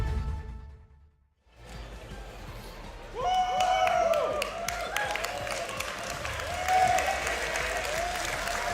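A large crowd applauds at a Yu-Gi-Oh YCS Birmingham card game semi-final, dense clapping rising after a brief lull and holding steady at moderate volume with some voices underneath.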